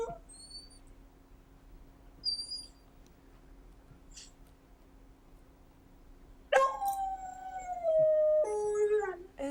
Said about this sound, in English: that's when I recorded her howling